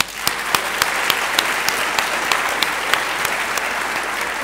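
Sustained applause from a large audience fills a graduation ceremony hall, dense and steady throughout with a few sharper claps standing out, no voices over it.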